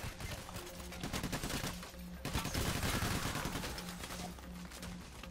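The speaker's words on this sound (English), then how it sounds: "There's bullets whizzing by me." Sustained gunfire in the heist video game Payday: The Heist, a dense, fairly quiet stream of rapid shots and bursts with a steady tone humming underneath.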